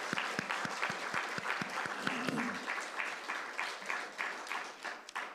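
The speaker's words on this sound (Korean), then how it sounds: "큰 박수 주시기 바랍니다." A church congregation applauds during a Sunday service for Teachers' Sunday. Claps are sharp and fairly rhythmic at first, then turn into a looser, fainter patter that fades out.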